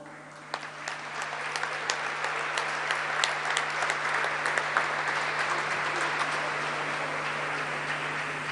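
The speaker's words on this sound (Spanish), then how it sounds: "con este caluroso aplauso también recibimos al siguiente distinguido" Warm, sustained applause fills a hall at a formal award ceremony, a dense, steady clapping from a large audience that holds at an even loudness throughout, with no voices over it.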